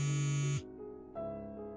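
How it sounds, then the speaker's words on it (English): A phone rings with a loud electronic buzzing tone, which cuts off and is followed by a softer tone. "Amelia, pick up the phone."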